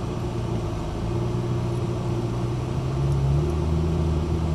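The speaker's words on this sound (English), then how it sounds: "Doesn't sound like the Ferrari either. No, it's quiet. This is turbocharged." Turbocharged exotic sports car on a race track, heard from inside as a steady, muffled engine drone and low rumble that swells slightly as the car pulls along.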